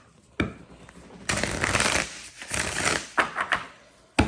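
Tarot cards being shuffled by hand, a soft papery riffling that comes in bursts with short pauses and a few sharper slaps near the end, close and clear with no talking.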